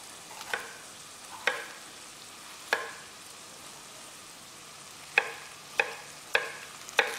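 A pan of green pepper gives a steady soft sizzle, broken by about seven sharp clatters of a utensil stirring and scraping, spaced unevenly and heard close up.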